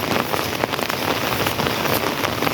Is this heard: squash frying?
no